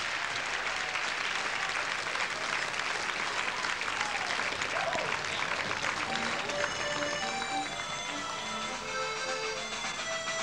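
A studio audience on a 1988 Icelandic summer TV show applauds a popular teen band with sustained, dense clapping, and a few musical tones start to sound faintly under the ovation toward the end.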